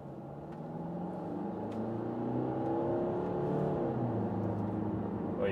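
A Mercedes-Benz E300 BlueTEC Hybrid accelerates to 90 km/h, its steady engine and road drone rising gradually and holding loud and continuous from inside the car.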